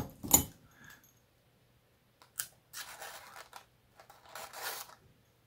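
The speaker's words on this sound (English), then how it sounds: "So I'm going to just make a cut along here." Covering material trimmed along the edge of a model aircraft tail surface, a sharp snip followed by several soft scraping cutting strokes, close and quiet with pauses between.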